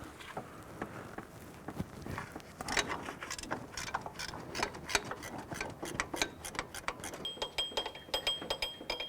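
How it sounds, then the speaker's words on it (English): A 12mm ratcheting gear wrench works a lower pivot bolt on a 2001-2005 Honda Civic engine, giving quiet, repeated metallic ratchet clicks and small clanks at an irregular pace, close but faint, with no talking. "I'm going to use our 12mm gear wrench, and we're going to loosen this lower adjuster as well"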